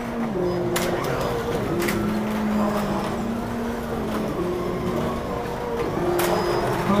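1/24 scale digital slot cars race around a track, their motors whining in a steady, continuous drone with shifting pitch as they lap, with occasional clicks and faint voices in the background.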